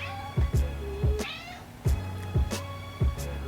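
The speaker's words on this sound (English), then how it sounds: "Because my cat, if y'all can hear her meowing," A pet cat meows several times in short, close, fairly loud calls at an uneven rhythm, alone and with no talking.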